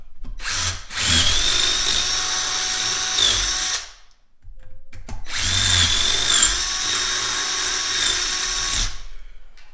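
A power drill bores holes for air bag brackets on a 1983 El Camino in two long, loud, whining runs, briefly stopping in between, with a steady high motor tone and grinding bite close by.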